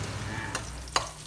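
Garlic and shark meat stir-fried in oil in a pan, a continuous low sizzle broken by two brief scraping clacks of a spatula, close and fairly quiet.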